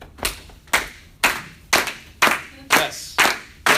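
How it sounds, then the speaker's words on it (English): A man claps his hands at a business and life training seminar, eight sharp, loud claps at a steady, slightly quickening rhythm, close and alone. "And then he starts clapping."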